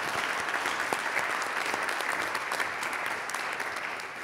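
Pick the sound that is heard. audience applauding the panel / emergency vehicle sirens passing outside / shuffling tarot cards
audience applauding the panel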